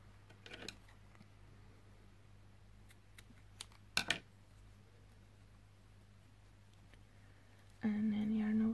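Scissors snip yarn tails on a crochet winter shawl in a couple of short, close, quiet cuts with faint handling rustle between, and a voice starts speaking at the end.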